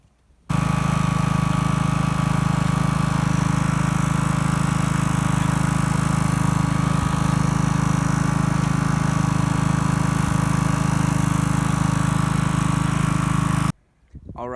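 A restored junk lawn mower engine runs at a loud, steady drone from close by. It cuts in sharply near the start and stops abruptly just before the end.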